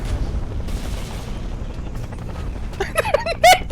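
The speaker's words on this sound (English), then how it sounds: "I believe they're napalm grenades." Napalm grenades landing on a town in a Vietnam War video game, heard as a continuous low rumble of distant blasts and gunfire, with a few brief raised voices breaking through near the end.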